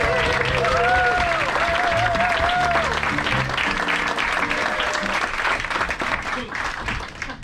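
Aboard the Viking Radgrid, an audience applauds the crew in the bar, with steady, full clapping throughout while music and people talking carry on underneath, easing off slightly toward the end.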